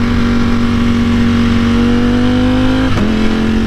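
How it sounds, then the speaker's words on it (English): A Ducati V4 motorcycle engine drones loud and close at steady revs, then a quickshifter downshift blips the throttle for a quick rev-matched dip and recovery near the end. "It's kind of like I touch it and it gives a little rev and then it downshifts."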